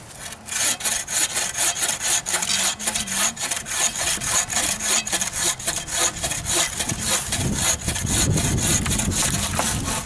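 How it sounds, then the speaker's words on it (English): A Northwest Woodsman buck saw cuts through wood outdoors with loud, close, rhythmic back-and-forth rasping strokes, about two per second, steady for the whole stretch. "Take my Northwest Woodsman buck saw."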